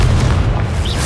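A single Confringo fire-spell blast in Hogwarts Legacy, heard as a loud, close, booming explosion that rumbles for about a second.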